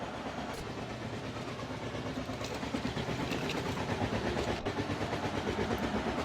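A video game train with coaches attached to its engine rolls along with a steady, dense rumble and faint rhythmic clacking that builds slightly toward the end, with no voices.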